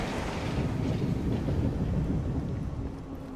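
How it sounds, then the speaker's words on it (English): Trains in Assassin's Creed Unity, heard as a continuous low rumbling roll of rail cars passing, steady and fairly close, fading slightly at the end with no speech. "With all those trains everywhere."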